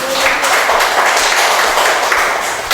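A school audience gives a student a round of applause, with dense, loud clapping close by that fills the whole moment.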